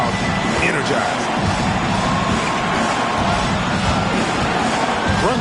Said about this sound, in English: And this gets the crowd energized.